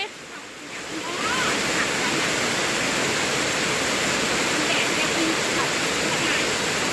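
Heavy rain falling on a rice harvest, a loud, dense and steady hiss that swells in within the first second and then holds evenly, with no talk over it.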